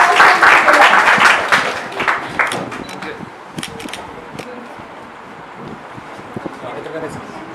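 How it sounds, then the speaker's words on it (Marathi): An audience at a certificate ceremony bursts into dense, lively applause that fades after a few seconds into scattered claps, with voices talking underneath. "टाळ्या वाजवा"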